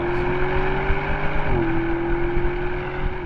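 A 2025 Audi SQ7 with a V8 accelerates through a tunnel, its engine note a close, steady droning hum that dips in pitch once as it shifts, then keeps pulling.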